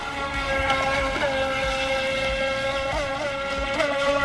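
A remote control speedboat's small motor whines steadily at high pitch, buzzing and continuous throughout, with slight rises in tone.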